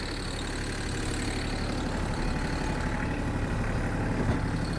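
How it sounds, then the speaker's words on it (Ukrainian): A Kubota GL-201 tractor runs with its driveshaft and mower blades turning, a steady, even mechanical drone heard close and continuously without talk. "Ось кардан працює, ножі працюють. Тихенько, стабільно."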